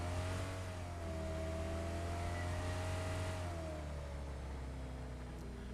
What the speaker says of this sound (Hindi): तो उठाई मैंने अपनी गाड़ी और आ गया सीधा जोन की तरफ।